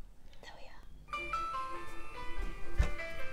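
A LEGO Grand Piano playing a song over Bluetooth, a bright tinkling melody of sustained notes entering after a soft whisper-like opening, with a low thump near the end.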